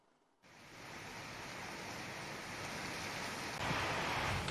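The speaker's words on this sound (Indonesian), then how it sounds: "Inilah video saat hujan lebat disertai angin kencang yang terjadi di wilayah Kecamatan Wungu, Kabupaten Madiun Minggu sore." Heavy rain with strong wind during a Sunday afternoon storm in Wungu, Madiun, East Java, a dense continuous roar of downpour that starts abruptly and swells louder near the end.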